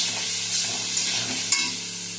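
Ground spices with coriander powder and a ginger, garlic and green chilli paste sizzle and are stirred in a pan, a steady close frying hiss with light scraping, no voices.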